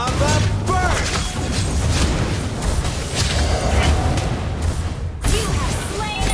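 Fiery Lava Burst spell explosion from the mage game Mobile Legends, a dense, continuous booming roar with crackling bursts layered over busy game effects, loud throughout.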